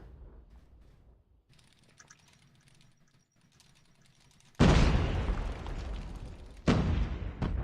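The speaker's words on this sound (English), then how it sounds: "Nero with the double grenade." Two grenade explosions in a competitive video game match, loud broad booms arriving a couple of seconds apart after a stretch of quieter game sounds.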